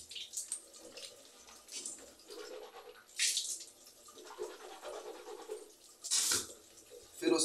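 Water splashes and trickles in faint, intermittent bursts as a mouth is rinsed during wudu ablution, with several short sloshing surges.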